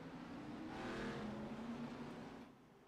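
ARCA Series race cars pulling away from pit road during a pit stop at the Orange Juice 200, a rising engine roar that swells and fades as cars accelerate past, moderately distant.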